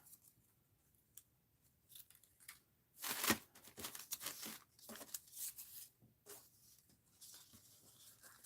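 Scissors snipping through craft material for a mixed-media or art-journal project, a run of crisp close cuts with a louder burst of snips in the middle, with no talking.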